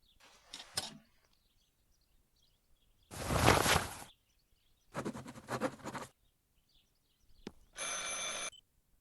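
An old-style telephone bell in the video game Martha is Dead rings in four separate bursts with quiet gaps between them, close and clear.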